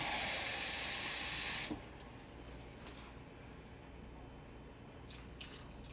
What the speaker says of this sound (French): On va mettre 80 g d'eau.